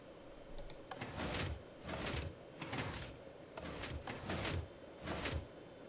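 A piston-operated two-sided door in Minecraft with the Forgecraft mods opens and closes repeatedly, giving about six evenly spaced bursts of mechanical piston sliding, each about half a second long and fairly loud, with no talking.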